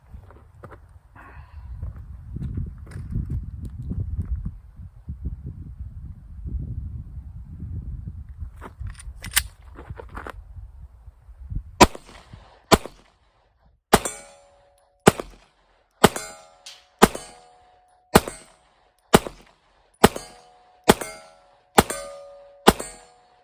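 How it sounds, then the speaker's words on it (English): Pistol shots are fired downrange at targets on a range: about ten sharp, loud reports in a steady, evenly spaced rhythm, each ringing briefly, after a stretch of low rumbling handling noise. "Let's send some rounds downrange."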